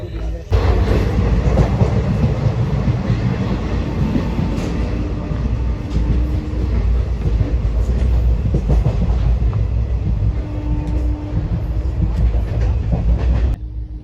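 A train rolls steadily along the rails with a continuous low rumble and rhythmic clatter, a faint squeal now and then, and no talking.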